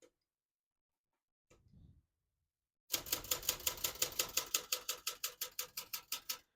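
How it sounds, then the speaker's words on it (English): Rapid, steady keystrokes on a 1975 Olympia SF vintage ultra-portable typewriter, close and clear, after a brief soft sound and a pause; the strikes come in an even run of about twenty sharp clacks. "As you can see, all the keys type nice and none of them skip or stick."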